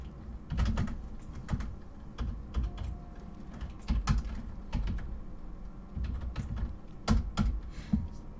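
Keys clatter on a computer keyboard used for Japanese input, a steady run of soft, irregular taps in quick clusters with brief pauses, close and moderately quiet, with no talking.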